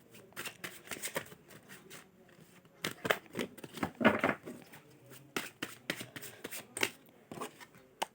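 Tarot cards being shuffled and drawn in a pick-a-card reading, with near, papery riffles and slaps in quick uneven bursts, the loudest run in the middle, no voices.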